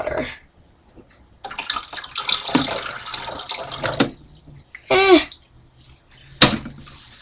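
Water pours in bursts into the plastic reservoir of a Keurig coffee maker, a hollow splashing fill that stops and starts close by, with a few clunks of handling in between.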